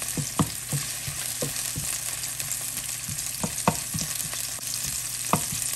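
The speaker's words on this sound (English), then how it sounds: "saute the onion" Onions sautéing in a frying pan as the base for beef liver, with a steady close sizzle and regular scraping clicks of a spoon stirring every half second or so, no voices.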